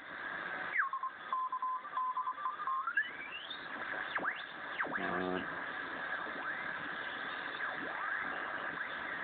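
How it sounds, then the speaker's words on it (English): Morse code picked up on the 17 meter amateur band through a Yaesu FRG-7 receiver: a steady tone keyed against a bed of hiss and radio noise, with warbling tuning sweeps and static. "There's a bit of Morse."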